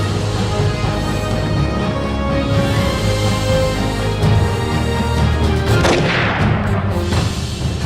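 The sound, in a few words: motion mines exploding a tank in Battlefield 2142 video game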